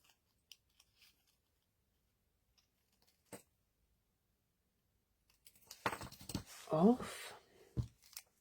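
Scissors trim a bit off a gingerbread man KitKat gift: faint scattered clicks give way to a close burst of snipping and crinkling, with a brief voice mixed in.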